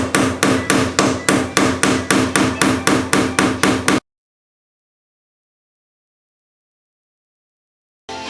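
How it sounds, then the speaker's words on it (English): A hammer drives a chisel against a stuck bathtub drain: about fifteen loud, evenly spaced metallic strikes in quick succession, then abrupt silence and a brief final burst. "Cut some notches to take your hammer and a chisel."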